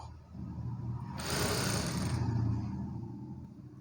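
A sewing machine runs a short burst of stitching along a hemming strip on a blouse, a close mechanical whir swelling for about a second in the middle of a quiet room.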